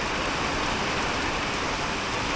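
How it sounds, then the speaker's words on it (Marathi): Heavy monsoon rain pours down in the Konkan countryside during a sudden storm, a dense, constant roar of drops with no pauses or voices. "एवढा पाऊस पडलाय आणि अजून पण ढगाळ वातावरण आहे"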